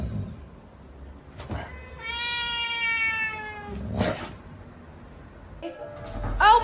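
A cat meows loudly up close, one long drawn-out wavering yowl followed by shorter cries and scuffling noises, with no talking over it.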